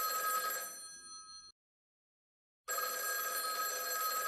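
A telephone rings in the video game Schrodinger's Call: a loud, bright electronic ring that stops for about a second of silence and then starts again, with no voices over it.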